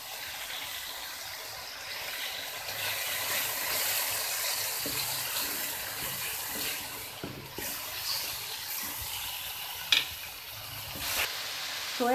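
Tomato paste sizzles in a hot pan during chicken macaroni with vegetables, a steady soft frying hiss running throughout with a few faint stirring clinks near the end.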